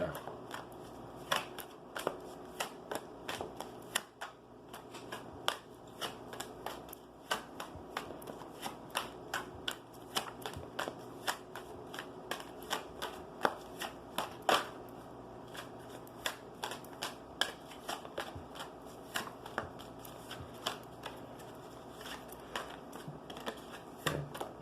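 Oracle cards shuffled by hand in a steady run of crisp riffling flicks and taps, close and continuous throughout, with no talking over it.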